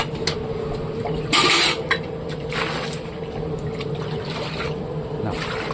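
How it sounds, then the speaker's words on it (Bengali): Mustard water poured onto bitter gourd in a cooking pan, a brief splashing gush of liquid around the middle amid kitchen clatter and background hum. "এই যে সর্ষের জল দিয়ে দিলাম।"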